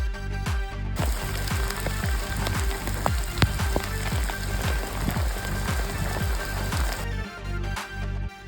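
Rain falls steadily in Armenia, a close, dense patter on a surface that holds for most of the stretch, with repeated rhythmic low thuds running beneath it.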